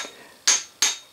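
A hammer strikes a corroded push button switch twice, two sharp metallic clanks about a third of a second apart, each ringing briefly, close and clear.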